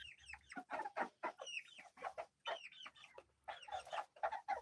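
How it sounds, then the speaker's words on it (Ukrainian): A 46-day-old hen clucking close by, a series of short rhythmic clucks and chirpy calls at low level, with no talk over them. "Така курочка гарна."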